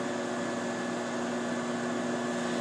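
A microwave oven running steadily while heating French onion soup in a mug, a constant close hum with a faint whirring noise and no talking.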